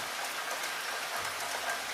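Steady rain falls and patters on surfaces as an even, continuous hiss that holds throughout, with no voices.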